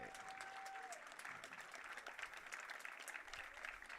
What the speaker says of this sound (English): One more round of applause for the 2025 Kahok Baseball Seniors and their families.